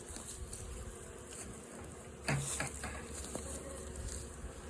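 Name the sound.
honeybees buzzing at hive with liquid feeder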